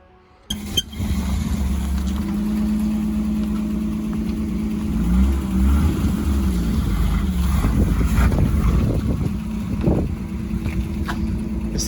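A Chevrolet C10 short-wheelbase pickup with a damaged exhaust cranks and fires up, then settles into a loud, rough, rumbling idle close by, with a few uneven surges in the engine note.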